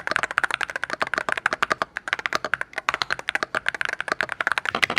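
Keys clack on a $200 Hall Effect keyboard in fast, even bursts, each stroke sharp and close-miked, with a brief pause midway and no voices.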